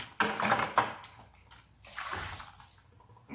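Water sloshes in a gold pan during panning in Wyoming, in two or three close, swishing surges with brief quiet gaps between them.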